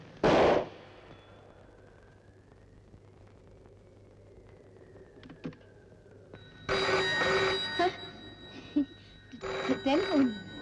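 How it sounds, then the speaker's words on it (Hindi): An old-fashioned telephone bell rings in loud bursts, after a sharp bang at the start and a quiet stretch with a faint whistle. "टेलीफोन।"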